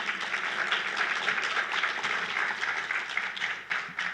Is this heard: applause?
yes